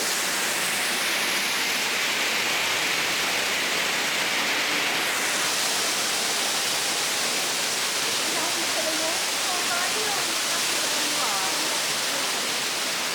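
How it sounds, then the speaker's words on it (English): A big waterfall and fountains at Epcot, Walt Disney World, pour with a constant loud rushing hiss throughout, while voices talk faintly underneath. "this area is particularly great if your kids love waterfalls and fountains like Riley does. There's a big old one down here"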